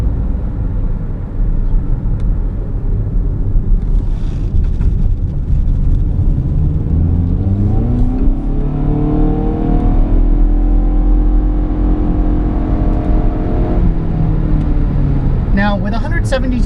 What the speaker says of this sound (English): this car basically moans and groans every time you get near the throttle